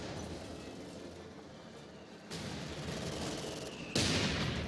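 Rapid, continuous tank autocannon fire in a World War II strategy game battle, a dense rattling barrage that grows louder partway through and swells again near the end.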